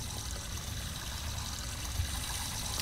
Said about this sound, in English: Oh, let's shower.